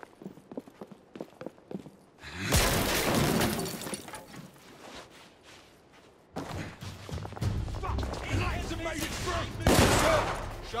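Rapid gunfire from a weapon in the video game The Order: 1886, loud dense bursts around 2.5 to 6 seconds and again from about 6.5 seconds onward, after a quieter opening.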